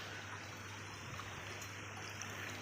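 Steady water flowing into a paddy field during the rainy season, a continuous soft trickling stream heard up close and alone.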